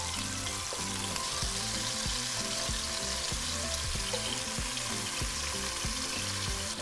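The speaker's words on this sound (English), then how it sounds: "we're going to flip our meatballs over to the other side and cook that side for another 2 minutes." Meatballs frying in oil in a pot for sopita de fideo, a dense, continuous sizzle with a low rhythmic bubbling underneath, close and steady with no talk.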